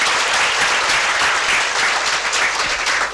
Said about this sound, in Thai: ปรบมือกับแพทย์หญิงนันนินดังๆอีกครั้งนึงครับ